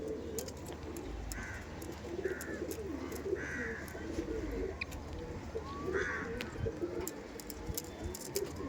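Punjabi pigeons coo in repeated soft, rolling calls at a moderate distance, over a steady low background hum with occasional faint chirps.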